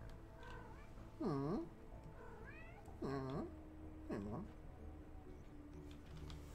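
A cat meows three times, close by, with pauses between calls, over a quiet room background; a soft voice can be heard faintly near it.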